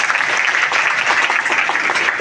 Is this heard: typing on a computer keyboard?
no